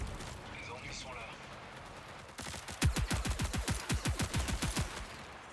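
Rapid gunfire in a video game, a long burst of about fifteen evenly spaced loud shots following a quieter stretch of game ambience.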